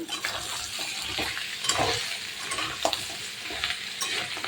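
Crab curry with salt and turmeric is stirred in a pan, a continuous close sizzle broken by repeated scraping and stirring strokes, with no talking.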